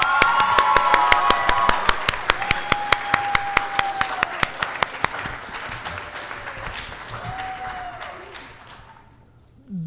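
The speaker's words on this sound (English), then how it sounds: "you might be getting a little tired of clapping, but too bad. Let's hear it again for these people." High school poetry recitation event audience giving sustained applause with sharp individual claps and scattered whistles and cheers, tapering off toward the end.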